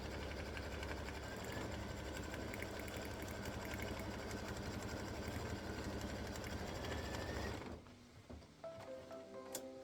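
An embroidery machine sews a satin stitch on a bear appliqué, a dense, steady mechanical whir with rapid needle ticking that runs loud and even, then stops near the end, leaving faint handling noise.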